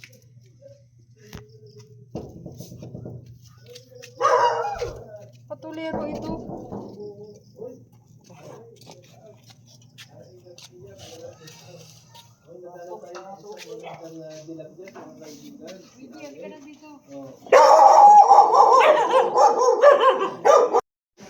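A dog barks and yips in bursts, with a drawn-out howling stretch near the end, while people talk intermittently and a low hum runs underneath.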